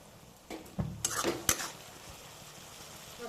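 Spices and garlic paste being sautéed in a pan on low to medium heat make a quiet background, broken by a few clinks and scrapes of a metal utensil against the pan, with no voices.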